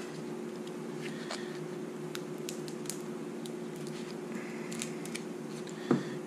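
Scissors snip a small chunk of foam for a catfishing rig, with a few quiet close clicks and crisp cuts over a steady low hum.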